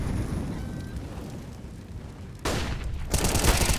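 Rapid AK rifle fire in a Counter-Strike match on the Inferno map, loud bursts with a sharp flashbang-like blast near the end, over continuous background game noise.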